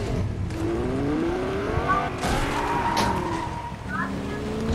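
Game car in Fortnite driving with engine tones sliding up and down and a brief tire skid, heard over steady game background while people talk.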